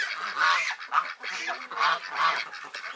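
A goose honks repeatedly by a pool, a run of loud, nasal calls coming close together in an uneven rhythm, heard near and on its own.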